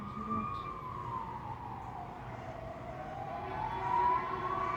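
Sirens from police and ambulance vehicles heading to a large fire near homes, a wailing tone that rises and falls through the whole stretch, heard at a distance over low background noise.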